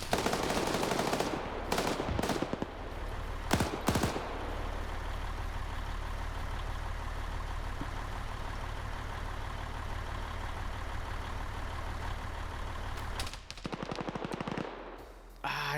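Gunfire cracks in short bursts during a video game PvP firefight around a UAZ vehicle, then fades under a steady engine rumble and background noise, with more shots near the end.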